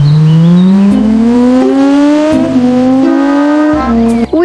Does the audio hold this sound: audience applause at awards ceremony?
no